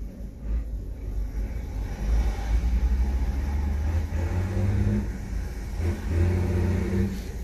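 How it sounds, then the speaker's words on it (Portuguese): Cars climbing a highway in Franco da Rocha past a detour around a serious crash, producing a continuous low engine rumble with swelling revs, moderately close and steady, with no talk. "Pela pista da esquerda, os carros que estão vindo estão conseguindo subir."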